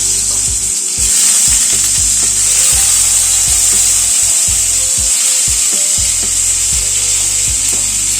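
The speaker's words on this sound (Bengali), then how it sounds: "তেলটা গরম হওয়ার পরে পটলগুলো ছেড়ে দিচ্ছি" Pointed gourd pieces sizzle and crackle loudly in hot mustard oil in a wok, a constant bright hiss with repeated low knocks of a spatula against the pan, and no talk.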